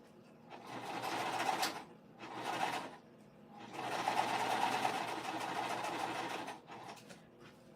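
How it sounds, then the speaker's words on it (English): Sewing machine top stitching denim, running in three close bursts of rapid even whirring separated by short pauses, with no talking. "I'm just top stitching them on each side"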